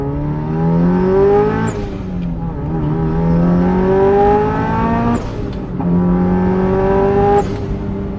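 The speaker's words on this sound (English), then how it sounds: "let's do a first gear pull" A Subaru Impreza STI Spec C RA-R engine revs hard in a first gear pull and climbs in pitch, then drops sharply at each shift and climbs again, loud and close, with no talking.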